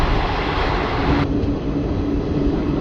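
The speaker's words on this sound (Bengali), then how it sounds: "ট্রেন কাটোয়ার কাছাকাছি পৌঁছে গেছে" Malda-Howrah Intercity Express running, a loud steady rumble and roar of the moving train heard from on board, with the high hiss dropping away partway through.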